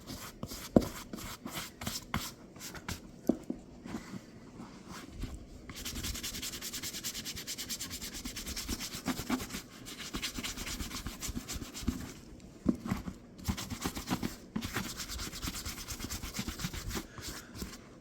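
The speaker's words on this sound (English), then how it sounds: "Now we're just going to go and try to work the oil and wax into the leather." Oil and wax are rubbed by hand into leather boots in a long, close scrubbing sequence of rhythmic brushing strokes, with brief pauses and taps between passes and no voices.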